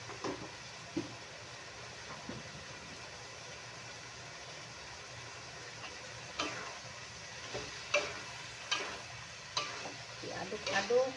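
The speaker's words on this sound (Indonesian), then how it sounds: "Diaduk-aduk." Carrots, green beans and shrimp sizzle steadily in a pan while a spoon scrapes and stirs in irregular strokes, growing busier toward the end.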